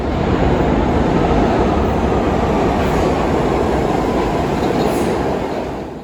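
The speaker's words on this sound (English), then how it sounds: "Look at that fucking train." An old New York City subway train roars past at close range in a steady, loud, broadband rumble of rail noise that barely changes for several seconds before easing slightly at the end.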